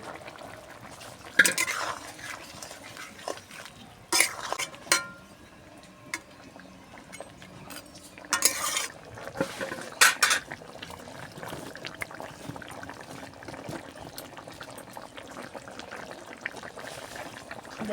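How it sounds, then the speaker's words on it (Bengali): Pieces of pangas fish dropped into a pot of boiling water for a fish curry, a few splashing plops over a steady bubbling simmer, fairly close and moderately quiet. "জল ফুটে উঠেছে, এবার মাছগুলো দিয়ে দেবো।"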